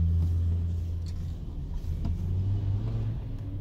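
Traffic on Sportivnaya street in central Vladivostok, a steady low rumble of cars and engines with faint brief higher noises, no voices.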